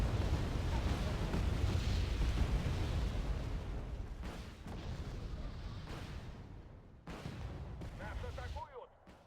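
Napalm strikes in the war strategy game Wargame Airland Battle: a loud, sustained roar of blasts and burning rumble that eases off, with a few sharp bursts near the end.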